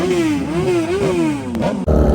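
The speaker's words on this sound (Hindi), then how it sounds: "भाई काफी टाइम से ना खुली नहीं है बाइक, तो आज भाई थ्रॉटल दिए जा रहे हैं भाई" A superbike at a large Sunday group ride is revved hard on the throttle nearby, its loud growl wavering up and down in pitch before cutting off sharply near the end.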